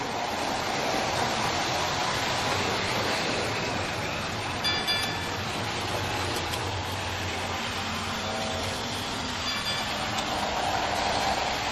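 A train rolls steadily along the track with a broad, continuous rumble and rattling wagons, holding an even loudness throughout with faint higher tones drifting in and out.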